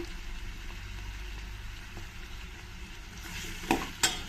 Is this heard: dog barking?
no